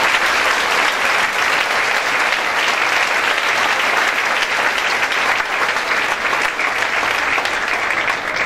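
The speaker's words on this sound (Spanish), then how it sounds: "Denle un aplauso al Rey, por favor." A church congregation applauds loudly and continuously, a thick wash of many hands clapping at once with crowd noise mixed in, holding steady from start to finish without pause.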